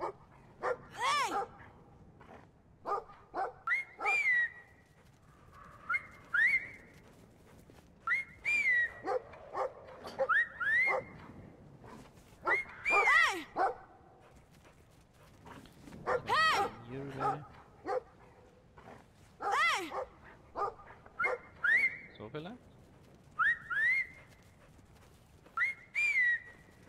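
Dog barking and yipping in the video game Brothers: A Tale of Two Sons, a string of short bursts spread across the clip, mixed with whistle-like calls and someone talking in between.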